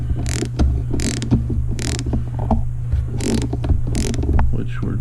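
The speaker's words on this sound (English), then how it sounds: "I'm just going to finish taking this tap on down as far as it needs to go." A thread tap is worked into the stripped spark plug hole of a chainsaw with a ratchet, making repeated creaking, clicking turns. There are about five rhythmic bursts of squeaky ratcheting over a low steady hum, close by.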